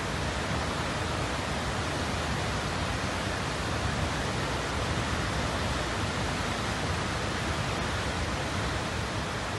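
Heavy rain sending flood water rushing past, a steady, dense broadband roar that fills the whole stretch without a break and with no voices over it.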